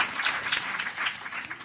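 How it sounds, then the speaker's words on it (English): An audience at a leadership summit breaks into loud, dense applause, many hands clapping steadily and close throughout. "Just give her a round of applause."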